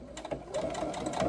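A sewing machine stitches across a fabric pouch tab in a short, close run of rapid rattling needle strokes.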